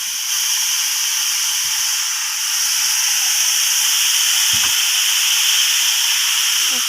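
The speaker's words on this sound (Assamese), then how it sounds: "এতিয়া মই কিছু আদা নহৰুখিনি দি দিছোঁ" Ginger and garlic hit hot oil in a frying pan while cooking banana flower with masoor dal, producing a loud, steady hissing sizzle that runs throughout with a few faint low knocks beneath.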